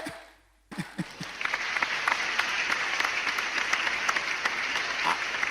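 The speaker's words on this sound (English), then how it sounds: "Please clap for yourselves again." Audience applause fills a comedy special show: after a brief quiet moment a few sharp claps start, then dense, sustained clapping carries on steadily to the end.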